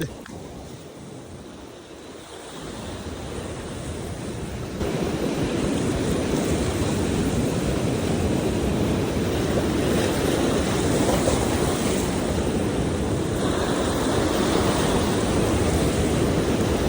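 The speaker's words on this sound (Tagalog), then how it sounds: "Malakas ang alon." Heavy surf crashes on rocks, roaring steadily in a broad wash of crashing water that swells louder partway through and stays strong, with wind noise over it.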